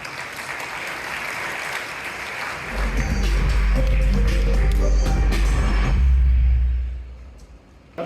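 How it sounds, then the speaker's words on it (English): Audience applause at the eBay Open 2023 in Manchester for a speaker about to present on eBay shops, a sustained clapping crowd joined midway by a deep low rumble, then fading out near the end. "So a round of applause, please."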